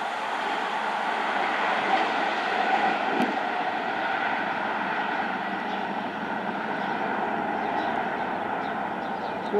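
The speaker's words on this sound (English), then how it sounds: "passing through now is a diverted service from London Paddington to Penzance, running approximately 70 minutes late" A diverted passenger train from London Paddington to Penzance, running about 70 minutes late, passes through a suburban station with a steady, broad rail roar that stays loud and even throughout.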